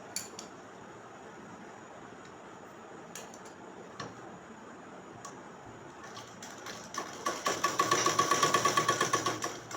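A sewing machine stitches four layers of fabric together for an umbrella frock, with scattered ticks at first, then a quick, loud run of rhythmic needle strokes near the end.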